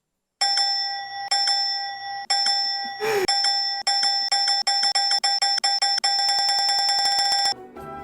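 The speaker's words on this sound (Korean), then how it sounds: "드디어 종소리가 끝났다" A bell chimes over and over with bright ringing tones, single strikes at first, then a fast run of quick repeated rings near the end, with a short noisy burst partway through.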